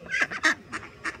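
Hungry ducks quack on a patio at a Champneys resort: about five loud, nasal quacks in an uneven rhythm, close by and with no talk.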